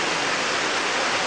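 Floodwater rushes through a breached embankment near Hyderabad into hundreds of homes, heard as a dense, steady roar of churning water that stays loud and unbroken throughout.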